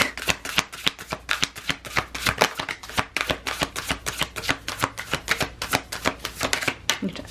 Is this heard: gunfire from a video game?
no